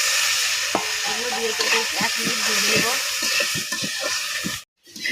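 Food, including coriander leaves, sizzles loudly in a pan while a utensil stirs and scrapes in quick strokes; the sizzling cuts out briefly near the end.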